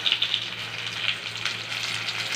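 Chopped tomato goes into a hot pan of fried onions while cooking a kochu shak dish, bringing up a close, continuous crackling sizzle with light spatters and no talking.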